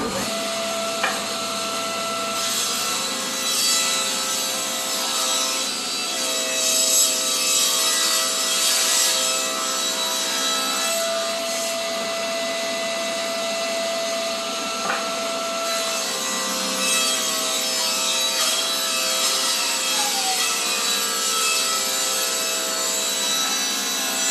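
A poplar board, about 4.5 inches wide and 7/8 inch thick, is cut in a woodshop. A power saw whines steadily throughout, with tonal hum, bursts of cutting noise and a few sharp clicks.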